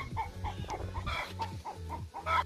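Chickens cluck repeatedly inside a chicken cage on a home farm, a busy run of short, fairly loud calls from several birds close by with no talking.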